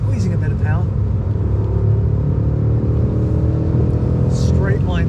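A BMW M car's engine pulls hard at steady high revs on the Goodwood circuit, a loud continuous rumble with a rising note as power is squeezed on. Someone speaks briefly over it.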